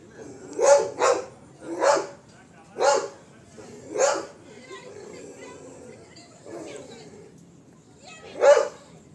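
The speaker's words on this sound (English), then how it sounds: "There was a dog" A dog barks outdoors on a nature walk in Kerala, letting out several loud, separate woofs at a steady pace. A long pause comes before one final bark, with faint background noise throughout.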